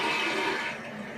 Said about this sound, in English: And full flush.